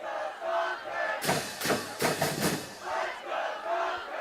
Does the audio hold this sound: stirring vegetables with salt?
no